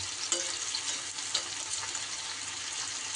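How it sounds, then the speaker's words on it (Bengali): Spiny gourd sizzles steadily in hot oil, with a few brief clicks and scrapes of stirring in the pan. "এইভাবে একটু নাড়িয়ে চাড়িয়ে সব কটা কাঁকরোলকে সুন্দর করে ভেজে নিতে হবে"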